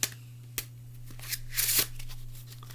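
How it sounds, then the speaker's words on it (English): A deck of playing cards is shuffled close up: a few sharp snaps, then a brief rapid riffling burst, over a steady low hum. "So let's say the deck gets shuffled."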